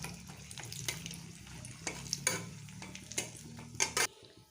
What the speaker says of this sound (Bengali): এই মাছ ভাজার তেলটার মধ্যে আমি একটা শুকনো লঙ্কা ফোড়ন দিয়ে দিলাম।